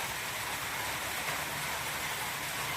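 Steady heavy rain pours down around a hut on a farm with turkeys, chickens and ducks, a dense, constant hiss with no break, close and fairly loud, with no voices.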